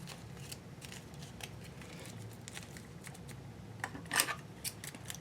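Scissors snip through the leftover fabric of a doll's wings in several quick, close cuts, faint against a quiet room with no talking.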